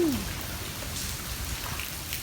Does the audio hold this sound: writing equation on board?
no